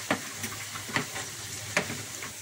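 A spoon stirring a tomato and water mixture in a pot, giving a few sharp scraping clacks at irregular intervals over a soft, wet, bubbling hiss, close and moderately loud.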